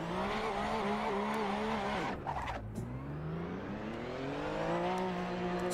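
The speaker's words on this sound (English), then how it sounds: "even the engine sounds in this game, it's another world" A race car engine in Assetto Corsa, played on PC, screams at high revs, drops sharply midway as the car brakes and downshifts, then climbs again. Loud and close, with no talking.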